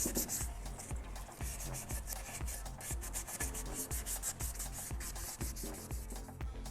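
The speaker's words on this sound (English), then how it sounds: "that water keeps the sandpaper clean, and also it's better to see what's going on while sanding." Rhythmic back-and-forth rubbing of wet sandpaper, used with water, on a Ducati XDiavel motorcycle part, steady strokes repeating quickly and close up, soft and without any talking.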